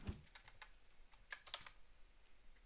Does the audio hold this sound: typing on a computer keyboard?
yes